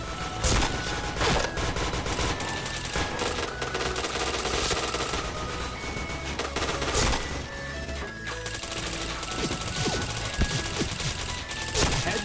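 Rapid automatic gunfire in the shooter game Point Blank, dense bursts of loud shots crackling continuously, with a few sharper impacts scattered through.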